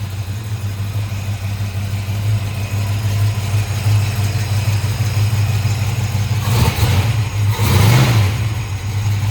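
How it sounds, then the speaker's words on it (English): Steady low V8 engine idle of a 1966 Ford Shelby Mustang GT350 after a cold start, rumbling close by, even and unbroken, with a couple of brief bursts of noise near the end. "Go ahead and start. Fires right up. Runs really strong."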